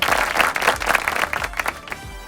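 An audience applauds Piyushbhai Desai at a gathering honouring his financial aid for girls' education, with a burst of dense, lively clapping that thins out and fades near the end.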